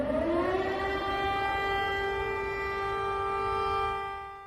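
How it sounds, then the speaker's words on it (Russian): Air raid sirens wail steadily over the Donbass region, a loud sustained rising tone with strong harmonics that holds and then fades slightly at the end, with no voices. "Вой сирен"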